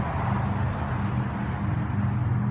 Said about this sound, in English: That sound you're hearing is the largest Bitcoin mine in North America.